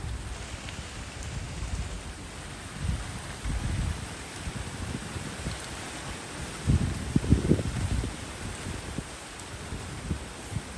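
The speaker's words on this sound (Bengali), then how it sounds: "বাতাসের আওয়াজ শুনতে পাইতেছেন আপনারা?" A strong storm wind near a cyclone rumbles and buffets in low gusts, with rain-like patter and noise in the microphone, steady and fairly loud throughout.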